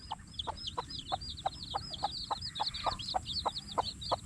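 Chickens cluck in a rapid, regular series of short calls nearby while eating, with chirpy high-pitched peeping from chicks over a low background hum.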